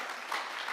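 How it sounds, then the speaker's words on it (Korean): Audience applause at a forum on support for older people with disabilities, a brief, fairly quiet wash of steady clapping from a seated crowd, with no talk over it. "박수 좀 주십시오."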